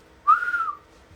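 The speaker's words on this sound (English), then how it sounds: "I don't have a good whistle." A single steady whistled note from a person, held for about half a second, fairly close and clear with no talking.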